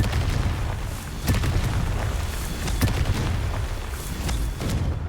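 Confringo spell blasts in the Hogwarts Legacy game, a run of booming explosive bursts over a rumbling background, several sharp impacts spaced a second or so apart.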